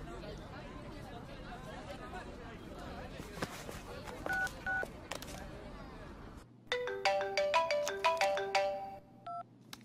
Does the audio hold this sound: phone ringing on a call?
yes